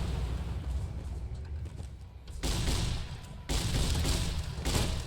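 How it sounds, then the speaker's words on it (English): Grenade explosions in the video game Fallout: New Vegas come as a dense rumble of repeated blasts, broad and heavy, rising in two loud surges about a second apart under a continuous low roar of gunfire. "They're throwing grenades."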